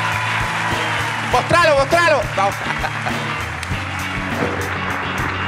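A live talk-show studio audience applauds a guest, the clapping running under loud shouting and a host's voice, with a musical band or tones layered beneath; steady, close and busy.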